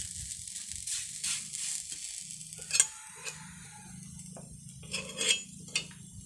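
A pitha crepe frying in a pan is flipped with a utensil, giving a low sizzle with a few sharp metallic scrapes and clinks against the pan.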